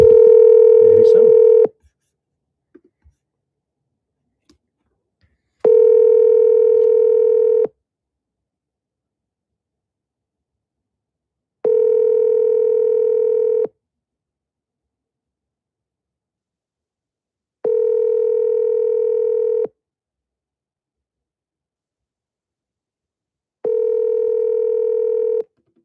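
A phone call placed to a wholesale seller rings repeatedly without an answer: five steady ringback tones spaced evenly about six seconds apart, clear and fairly loud over silence, with a brief keypad-like sound at the start.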